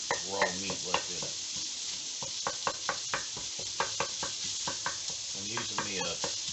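Spicy fried rice sizzles in a cast iron pan while a wooden spatula scrapes and knocks against the pan in repeated irregular strokes, close and clear.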